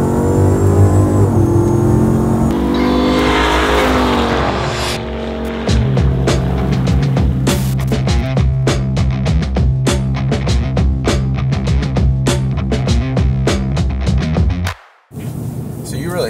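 A 1000-horsepower Hennessey Mammoth 1000 RAM TRX pickup engine idles loudly and then revs hard, its deep roar climbing and holding close by, with the crackle of the exhaust carrying through. It cuts off sharply near the end.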